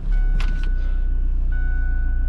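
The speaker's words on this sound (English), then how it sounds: "let's start the car up." A Korando Ultimate C300 car engine cranks briefly and catches, then settles into a steady, close idle hum with a faint high whine.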